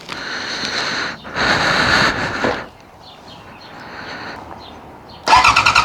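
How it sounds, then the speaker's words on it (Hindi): Motorcycle fitted with an Austin Racing exhaust cold-starting: a loud cranking burst, a brief pause, another roaring catch, then a rough, lumpy idle before a final sharp loud blip at the end. "अब हम करते हैं अपनी बाइक को कोल्ड स्टार्ट"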